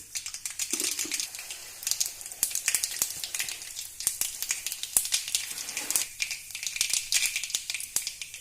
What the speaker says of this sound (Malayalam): അതിനകത്തേക്ക് കടുക് ഇട്ട് കൊടുക്കാം